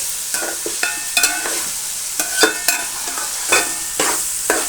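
Ridge gourd cooking in a pan is stirred with a utensil, making repeated scraping strokes at an uneven rhythm over a soft steady sizzle, close up, with no talking.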